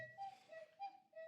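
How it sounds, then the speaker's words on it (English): A small, higher-pitched cuckoo whistle plays its two-note call twice, each pair a high tone dropping slightly, light and clear. "that's the sound of smaller whistle, so the sound is a bit higher."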